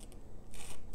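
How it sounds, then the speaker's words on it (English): A paper stump scrapes gently across pastel on paper in a few short, soft rasping strokes, close and quiet with no talk. "paper stump to scrape very gently some windows"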